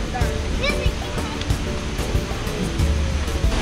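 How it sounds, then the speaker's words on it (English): Water of the Bronx River rushes and flows steadily with broadband noise, while voices and bird chirps are audible over it. "this is the river, the Bronx River"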